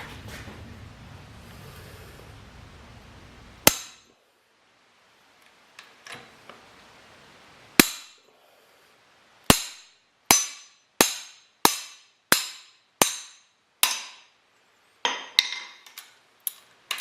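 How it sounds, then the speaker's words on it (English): Sharp metallic hammer strikes ring out while installing a stator on an SSR 125 pit bike, first a few scattered blows, then a steady run of about a dozen evenly spaced hits, loud and close. "Just had to use the hammer."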